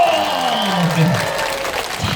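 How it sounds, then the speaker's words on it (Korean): Crowd at Daegu's Cheonggwa market clapping together during an outdoor market event, a steady wash of applause with voices and tonal sounds mixed in, fairly loud throughout. "다 같이 박수 쫙 한 번 쳐주세요."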